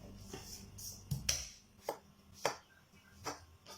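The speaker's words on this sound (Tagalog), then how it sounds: "I-mince din natin itong garlic. Medyo pinuhin natin yung bawang." Knife chopping through garlic cloves on a board for Bicol Express, a handful of sharp separate strikes spaced unevenly, close and fairly loud against a quiet kitchen background.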